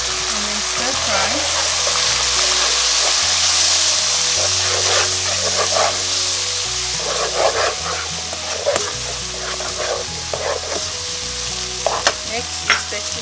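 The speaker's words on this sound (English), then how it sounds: "And then stir fry." Curry, cumin and turmeric powders stir-fried in a pan, a steady sizzle with scraping stirs and clinks throughout, a dog barking now and then, and background music.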